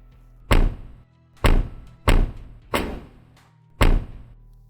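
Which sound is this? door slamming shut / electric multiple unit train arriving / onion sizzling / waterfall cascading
door slamming shut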